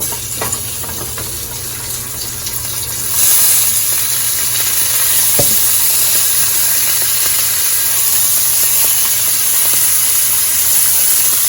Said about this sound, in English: I'm gonna take my rolls and I'm gonna put them toothpick side down in the skillet